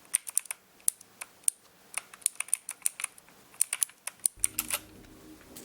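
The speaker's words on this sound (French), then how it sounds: "je vous fais un petit test de son du clavier pour que vous vous rendez compte un peu du bruit que ça fait" Typing on an RGB gaming keyboard with a brushed steel frame and plastic keys: a steady run of crisp, fairly loud individual clicks close up, ending with a denser burst of keystrokes and a low hum.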